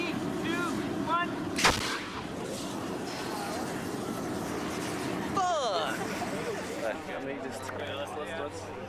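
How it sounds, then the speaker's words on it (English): A propane cannon fires during a fire test, throwing out a big fireball: a sharp, loud blast about two seconds in, followed by rumbling and a later roar and hiss. Crowd noise and voices fill the background. "we have a propane cannon explosion going off in this area"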